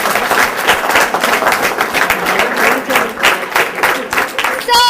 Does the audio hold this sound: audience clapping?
yes